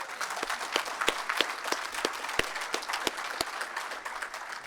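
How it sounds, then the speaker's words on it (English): Warm audience applause at a society induction event, many hands clapping steadily at a moderate distance for several seconds with a few sharper claps standing out. "I think we all deserve to give Jamie a big round of applause."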